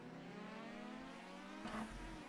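Race cars launching together from a standing start on a tarmac oval at Bloem Oval Raceway, a steady multi-engine drone with a louder rising surge of revs near the end, heard from a moderate distance.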